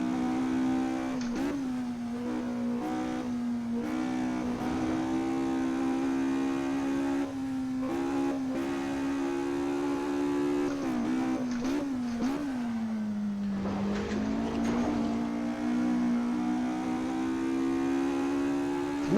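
A Ford Escort MK2 race car engine drones steadily at high revs through Assetto Corsa at Highforce, pitch dipping briefly around gear changes and lifts before climbing again, loud and continuous with no talk.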